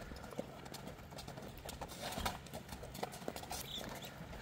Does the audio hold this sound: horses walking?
yes